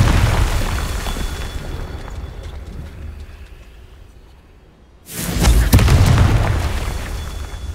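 A Confringo fire spell from Hogwarts Legacy bursts into a loud, deep boom that swells suddenly after a quieter, fading rumble, then rolls on for a couple of seconds.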